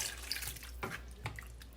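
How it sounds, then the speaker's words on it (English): Room-temperature tap water runs into a cooking pot in a home kitchen, a steady quiet splashing stream with a few faint clinks, no voices over it. "Just warm water from the pipe, so I'm just gonna add some water."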